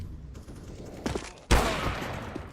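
AK rifle gunfire in the shooter game CS:GO, a loud burst of rapid shots cutting in sharply after quieter background game noise, with a few fainter shots before it.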